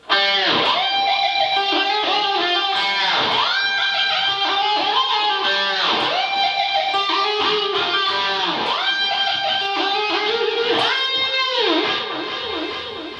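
A distorted electric guitar plays a busy solo, bending and dipping pitches as with a whammy bar, loud and continuous throughout.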